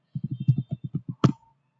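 Quick keystrokes on a keyboard while a name is typed, about a dozen soft clicks in a fast even run ending in one sharper tap, close and alone.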